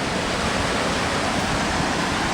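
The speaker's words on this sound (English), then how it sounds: "here's the waterfall the kids were speaking of when they walked by" A waterfall on Diamond Lake Trail in Colorado rushes in a steady, dense, full-spectrum roar, close and constant with no voices.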